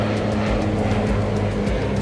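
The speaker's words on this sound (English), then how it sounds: "wait for the plane to go." A propeller airplane passing overhead during an Alaska cruise, heard as a steady, loud droning engine hum with a low rumble that holds for the whole two seconds, with no talk.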